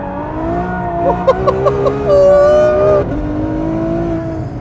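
A Ferrari F12 roars loudly and steadily as its tyres spin, the engine note rising in a sustained high-revving howl with a few sharp bursts, close and dominant throughout.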